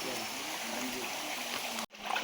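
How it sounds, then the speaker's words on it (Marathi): Water pours steadily out of a tunnel and runs away in a constant rushing flow, heard close by, with a brief dropout near the end before the flow returns. "इथून टनलवरून पाणी येतं आहे आणि इथून वाहत जाते"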